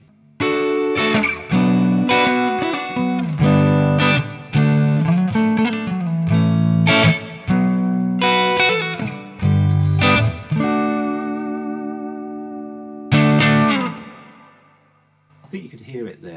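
Electric guitar on a neck pickup through the clean channel of a Hook Wizard amp plays a run of ringing chords and single notes in short bursts, then a long sustained chord fading out, with no talk over it.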